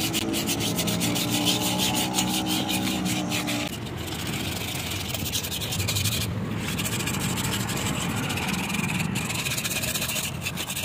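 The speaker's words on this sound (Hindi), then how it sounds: "उससे पहले हमें क्लीन करना है पॉलिश पेपर से" Polishing sandpaper rubbed steadily over rusty parts of a Honda Dio 6G scooter, giving a continuous loud scratchy hiss with a faint droning hum for the first few seconds.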